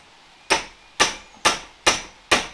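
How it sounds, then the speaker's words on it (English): A hammer strikes a hose fitting five times at an even pace, each blow a sharp, close metallic crack with a quick decay, no talking. "Use an appropriate hammer."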